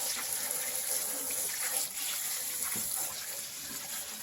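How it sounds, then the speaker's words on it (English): Freshly harvested basil is rinsed under a running tap, a steady close gush of water splashing over the leaves with no voices. "So we just give them a quick rinse."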